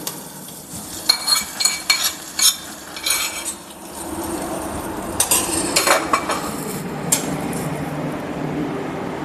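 A hot coconut-oil tempering with asafoetida and curry leaves is poured into coconut chutney in a pan, with a burst of sizzling after sharp metal clinks and scrapes of a spoon against the vessel, close and clear.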